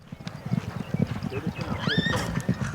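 A herd of horses in western Colorado on a frosty May morning: close hoof clip-clops in an uneven rhythm, a clear high whinny near the end, and low snorting and shuffling throughout.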